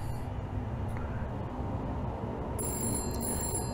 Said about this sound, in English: nothing but the ringing of the lobby phone